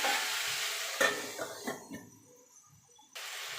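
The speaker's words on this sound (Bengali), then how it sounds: "এবার ঢাকা দিয়ে দিয়ে সবজিটাকে একটু ভাজা ভাজা করে নেব।" Vegetables sizzle and are stirred in a pan while a mixed niramish chorchori is cooked with katoa data, with a soft frying hiss, a few scraping stirs and clinks, fading to near quiet before the sizzle returns.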